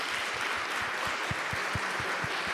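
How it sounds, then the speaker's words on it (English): A conference audience gives a short round of applause for the volunteers at a closing session, steady clapping heard from some distance, with no talk over it. "did we have an applause for the volunteers?"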